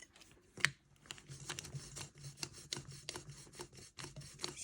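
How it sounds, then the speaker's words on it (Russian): An old, crumpled and broken craft blank being cut apart, giving close, irregular rasping and crinkling cuts with short rubbing scrapes, a sharper snap near the start, and no talk. "И вот здесь я ее отрежу."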